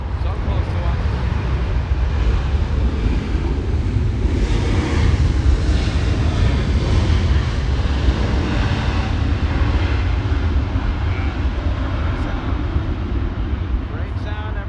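Steady roar of jet airliners landing and taking off near Los Angeles airport, a continuous broad rumble with a swelling pass in the middle, heard close up outdoors with wind buffeting the microphone.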